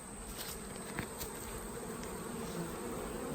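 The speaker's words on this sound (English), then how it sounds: "the bees are fanning" Honey bees fan at the entrance of a newly installed hive box, giving a steady, dense buzzing drone that holds evenly throughout with no voices.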